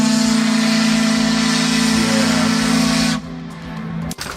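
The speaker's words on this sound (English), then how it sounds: "Steamboat whistle." Steamboat whistle from a Victoria 3 game mod blowing one loud, steady, hissing tone for about three seconds before cutting off, followed by faint clicks.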